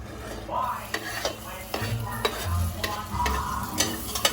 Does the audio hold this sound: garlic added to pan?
yes